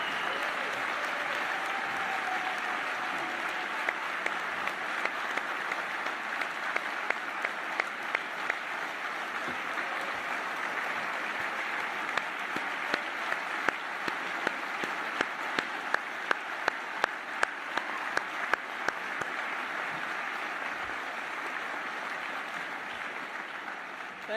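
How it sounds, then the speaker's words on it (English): An awards dinner audience applauds scholar athletes, a sustained wash of clapping from a large crowd with louder individual claps standing out near the front, continuing steadily throughout. "please share your applause with them again for outstanding college careers"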